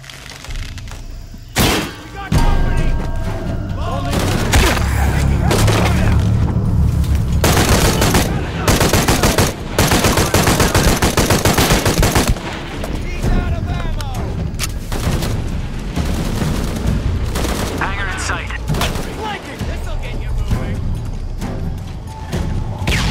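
Heavy automatic gunfire and booming shots from a firefight in Shadow of the Tomb Raider, loud and sustained with crashes, while voices talk over the shooting.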